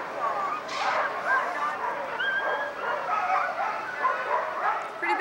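Sled dogs bark and yip during a dog sled race on a snow-covered Anchorage street in 1990, the barks repeated and fairly close, with crowd chatter and voices mixed throughout.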